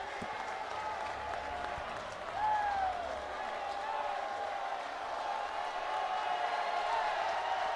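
A crowd at a college baseball game between Arkansas and South Carolina roars and cheers continuously from a distance, with whistles rising above the swell and a commentator's voice speaking over it.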